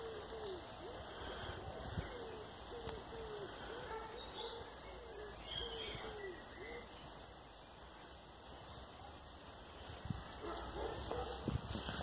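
A beagle stuck in a brook lets out a run of faint, repeated whines and whimpers over a quiet outdoor background.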